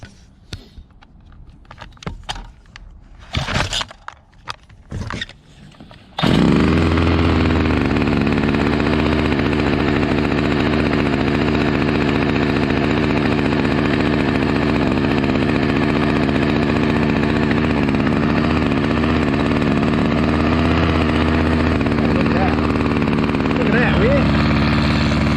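Small two-stroke weed whacker engine converted into a water pump: a few sputtering pull-start attempts, then it catches and runs at a steady, loud buzzing idle close by for the rest of the time.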